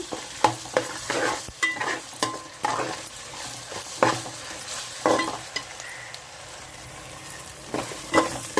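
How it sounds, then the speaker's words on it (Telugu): Ginger-garlic paste sizzles in a pan for cauliflower fried rice, with a steady frying hiss broken by repeated close scrapes and knocks of a stirring spoon; no voices. "ఇప్పుడు అల్లం వెల్లిపాయ పేస్ట్ వేసుకుందాము ఒక స్పూను ఇది కూడా బాగా వేగిపోవాలి"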